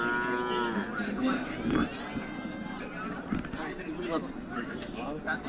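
Cattle at a busy cattle market, with a loud nearby moo standing out over crowd chatter and general outdoor bustle, while people talk throughout.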